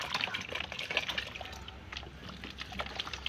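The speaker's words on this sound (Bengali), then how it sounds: "জল দিয়ে ভরাট করে দিতে হবে।" Water trickles and splashes softly into a potted plant on a rooftop garden, a faint, continuous pour with small drips, and no voices.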